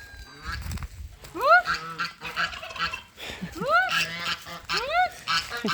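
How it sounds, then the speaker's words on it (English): Farm poultry on a rural property call back and forth in loud, close, rising honks and squawks that come in repeated bursts, with soft background noise between calls. "They make different kinds of noises and just have conversations with them."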